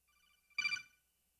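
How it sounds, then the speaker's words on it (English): A phone ringtone playing the Metal Gear Codec call sound: a short bright electronic chirp burst lasting under half a second, faint and alone against near silence. "that was the Metal Gear Codec sound"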